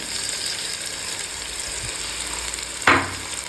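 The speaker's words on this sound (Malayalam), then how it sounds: "നമ്മൾ നല്ലപോലെ തന്നെ വഴറ്റി" Onions and tomatoes being sautéed in a pan for dal fry sizzle steadily up close, with one sharp clack of a spoon against the pan near the end and no talking.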